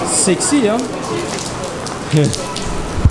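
Steady rain pouring down in a sudden shower, a dense hiss of drops drumming on surfaces, with brief talk over it.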